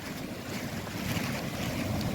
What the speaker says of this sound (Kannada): ತುಂಬಾ ದೊಡ್ಡ ಅಲೆ ನೋಡಿ